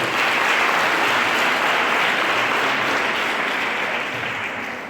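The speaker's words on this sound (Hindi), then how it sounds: "आप लोग ताली बजाते रहिएगा" Sustained audience applause fills the hall at a two-day photo exhibition hosted by CBC Kathua, a dense, even wash of many hands clapping that tapers slightly toward the end.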